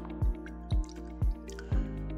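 A stiff paint brush is rinsed in water and worked against the container, giving four evenly spaced wet squelching dips with soft dripping between them, close and alone.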